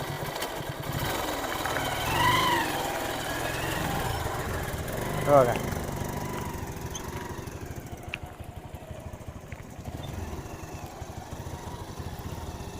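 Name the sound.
vehicle engine started and running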